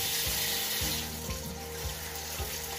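Water running from a tap into a sink, a steady close gush with a few faint knocks, no voices.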